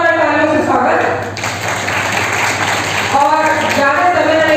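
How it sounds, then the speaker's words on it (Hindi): Audience applause welcoming guests at an Eid Milan gathering, a burst of clapping swelling in the middle and fading after a couple of seconds, with someone speaking over a microphone before and after it. "जोरदार तालियों से स्वागत"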